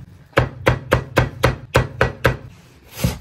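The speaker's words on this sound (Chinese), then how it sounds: "切点葱姜" Knife chopping scallions and ginger on a cutting board in a home kitchen: about eight sharp, evenly spaced thuds in quick rhythm, close and crisp, ending with a softer scrape.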